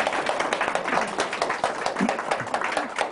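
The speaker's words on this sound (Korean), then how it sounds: "안대희 강사님을 큰 박수로 맞이해주세요." An audience at a book-launch lecture gives a short, moderately quiet round of clapping to welcome the lecturer, with a faint voice now and then under the applause.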